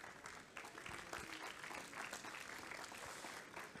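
An audience applauds at a morning event on low-carbon agri-food factories, a steady close wash of clapping that lasts throughout without pause.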